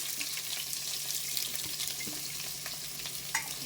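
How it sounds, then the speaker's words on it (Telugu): Onions sizzle steadily in hot oil in a pan with mustard seeds and curry leaves for a Telugu drumstick fry, with occasional faint stirring clinks over the continuous frying hiss. "ఇది కొంచెము ఫ్రై అవనిద్దాము, వేగనిద్దాము."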